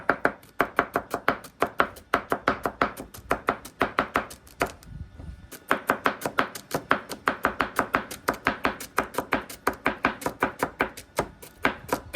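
Celery is finely chopped with a knife on a board for gumbo in rapid, rhythmic, close thuds, about three per second, pausing briefly before resuming.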